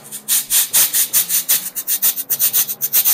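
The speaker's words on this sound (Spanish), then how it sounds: "Este se le llama cabaza y son como collarcitos de perlitas de metal que rozan el cuerpo del instrumento." A cabasa, its strings of metal beads rubbed against the instrument body, gives a steady run of crisp, scratchy swishes in quick rhythmic strokes, close and clear with no talking.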